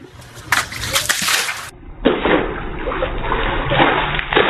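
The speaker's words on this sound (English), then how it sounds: "That is how you throw a bucket of water at" Water thrown from a bucket during a game stream, making two loud broad splashes a moment apart, each a gushing wash that spreads and sloshes before dying away.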